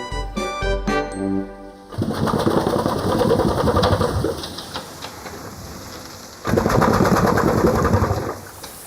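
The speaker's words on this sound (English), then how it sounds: "This remarkable contraption is an old steam engine." A loud, steady mechanical clatter and hiss from an early working steam engine at Quarry Bank Mill, England, runs continuously after a brief musical intro, surging louder again partway through.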